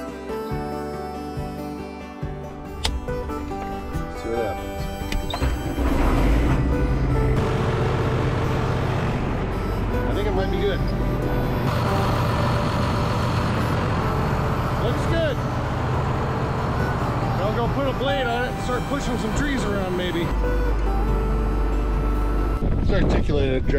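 A tractor's diesel engine cranks and catches, then settles into a loud, steady running rumble close by.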